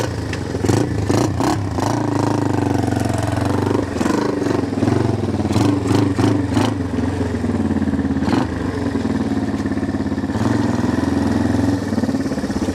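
A Big Wheel 200 motorbike engine runs close by with repeated sharp revs and blips over a steady clattering idle drone.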